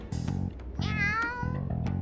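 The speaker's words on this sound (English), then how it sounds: "That sure is a noisy cat." A cat meows repeatedly in the Persona 5 Strikers video game, several clear, loud, rising meows coming in a quick series over steady background game music.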